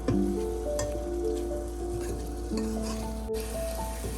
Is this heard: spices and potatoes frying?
yes